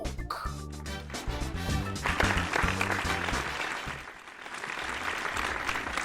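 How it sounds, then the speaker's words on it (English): Applause sound effect in a Formula 1 podcast intro animation, clapping swelling over musical and percussive hits, then a steady wash of applause. "The applause is there, right?"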